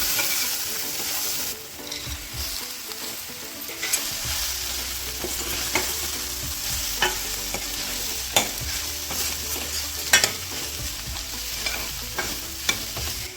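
Bitter gourd slices sizzle and fry with onions in a hot pan, with steady crackling, occasional sharp spatters and scraping stirs; no voices.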